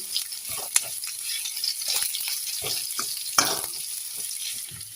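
Onions sizzle and fry in a pan while cooking for drumstick sambar, with a steady crackle and occasional scrapes and clinks of a stirring spoon against the pan.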